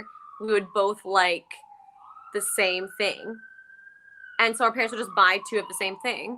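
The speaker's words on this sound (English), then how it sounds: "You can hear the ambulance outside my place." An ambulance siren passes outside a home, a steady wailing tone that drifts and bends slowly, running faint under close conversation between two speakers.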